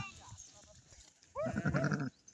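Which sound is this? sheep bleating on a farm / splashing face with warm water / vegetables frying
sheep bleating on a farm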